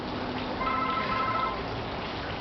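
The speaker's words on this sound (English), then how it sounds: "got the phone ringing" A phone rings out somewhere in the audience at a public talk. The electronic warbling tone is faint and brief, set against a steady hum of room noise.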